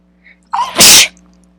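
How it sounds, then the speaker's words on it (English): A single loud, abrupt human sneeze with a short intake of breath before the burst, close to the microphone in a quiet room. "about to sneeze here"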